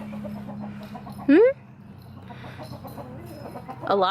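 Hens, some with fowl pox, clucking and chattering close by in a plywood coop, with one loud rising squawk partway through over a steady low hum.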